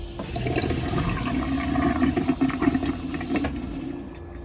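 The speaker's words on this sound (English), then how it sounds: "So it will then pump a little bit more water in to flush the toilet out." A toilet in a Concorde Charisma motorhome flushes as a small pump runs with a steady hum while water rushes and gurgles nearby for several seconds before it tapers off.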